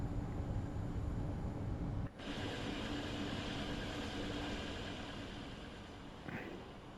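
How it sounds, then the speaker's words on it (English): A freight train passes in Train Sim World 2 around Dresden, making a loud, continuous rumble of rolling wagons that fades slightly toward the end, with a brief dip and a short squeal. "Finally, I'm going to get stuck behind a freight train."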